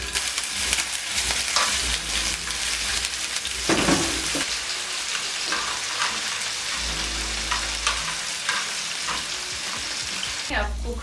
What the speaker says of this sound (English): I'm going to put in the chunks of fillet and allow them to get a brown color